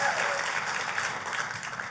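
A church congregation claps in praise during a sermon, steady dense applause filling the whole stretch at moderate loudness without a break.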